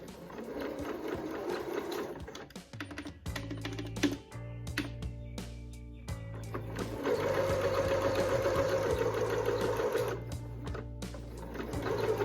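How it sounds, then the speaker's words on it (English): A sewing machine stitches fabric for a guinea pig tee pee in quick mechanical bursts, running steadily in close, clear runs separated by short pauses and handling clicks. "we're gonna sew around this hole"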